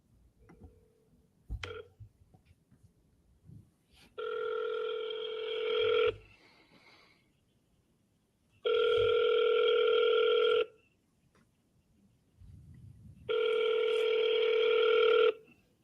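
A telephone rings on an outgoing call: three long ringback tones, each about two seconds, repeat with quiet gaps and faint room noise between them.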